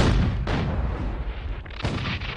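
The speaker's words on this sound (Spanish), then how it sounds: "La artillería mexicana en Matamoros inició una barrera de fuego continua sobre el Fuerte Texas" Mexican artillery pounds Fort Texas from Matamoros in a continuous barrage, with dense, rumbling cannon booms and blasts overlapping into a loud, sustained roar.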